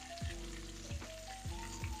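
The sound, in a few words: meatballs frying in a skillet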